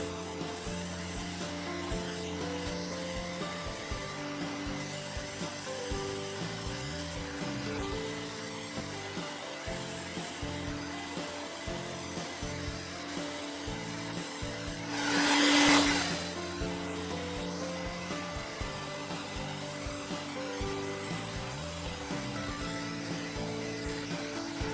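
A hair dryer runs steadily throughout, heating a holster, with a constant whirring drone, briefly rising in a louder rushing burst partway through.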